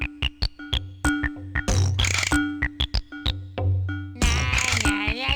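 Wario World pause screen music from the GameCube-era video game, a jaunty looping tune with sharp plucky staccato notes, steady bass pulses and bursts of brighter chiming chords, heard clearly with no talking over it.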